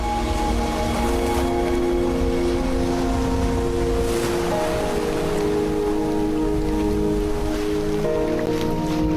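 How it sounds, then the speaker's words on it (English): Steady heavy rain pours down without a break on Lamu Island, Kenya, a dense hiss of drops hitting surfaces, with a low rumble underneath and a few faint tonal hums. "The heavy rain brings relief from the heat on Lamu Island."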